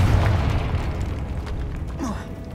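A Confringo blasting curse bursts in Hogwarts Legacy, one loud booming explosion up close that fades into a rumbling tail with a faint crackle.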